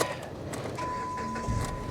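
A 2014 Chevy Corvette engine fires and settles into a steady, close idle, a brief burst with a faint whine riding over the rumble.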